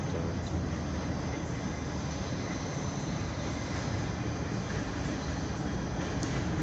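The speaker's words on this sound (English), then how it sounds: "here comes a Bronx-bound 1 train" A Bronx-bound 1 train on the New York subway arrives with a steady, loud rumbling roar of wheels on rails and a broad hiss that fills the whole stretch, with no talking.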